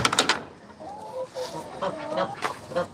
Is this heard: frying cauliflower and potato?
no